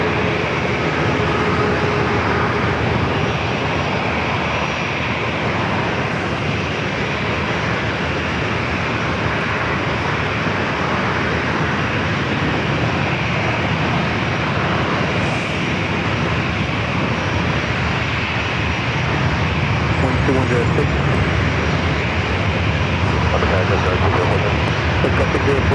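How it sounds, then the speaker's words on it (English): A UPS Boeing 767-300 freighter arriving at San Diego airport roars as a loud, continuous broadband engine rumble lasting throughout, with a voice talking over the noise. "next is that UPS 767, the 300 freighter coming up from Louisville"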